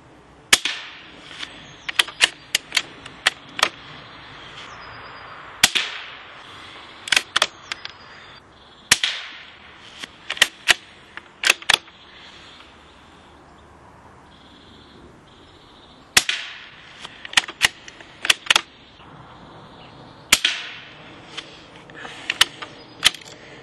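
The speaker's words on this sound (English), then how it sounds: "Now I'm going to shoot the target immediately below." Anschutz rifle fired at targets again and again, sharp cracks in uneven bursts with short pauses between volleys and a longer quiet gap midway, heard alone without talk.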